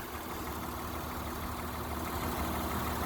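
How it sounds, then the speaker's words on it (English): A 2003 Honda Odyssey EX-L V6 VTEC with about 149k miles idles steadily under its open hood, giving a smooth, even, quiet hum from close by with no talking. "It's idling very quietly for its age."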